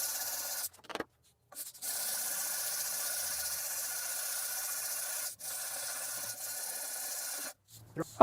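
An oilstone is rubbed flat on sandpaper in long, steady gritty strokes that run several seconds each, broken by short pauses and a few knocks as the stone is repositioned.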